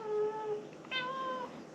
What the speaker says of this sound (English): What's meowing? What you meowing about, bud?